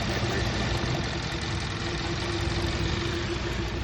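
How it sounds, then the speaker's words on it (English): A car engine idles roughly with a cylinder misfire, a dense, steady mechanical rumble heard up close with slight unevenness and no voices. "Now, come back to the engine. You still see it's firing rough."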